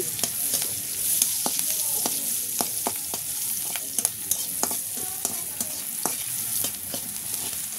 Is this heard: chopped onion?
yes